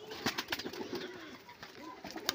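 Pigeons kept for sale in Punjab coo softly nearby, with a few low murmuring calls and faint flutters over light background noise.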